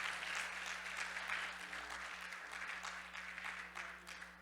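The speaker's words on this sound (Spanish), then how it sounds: "Un aplauso al Señor." A church congregation applauds during a Spanish-language sermon, a faint, steady wash of clapping heard from a distance over a low electrical hum.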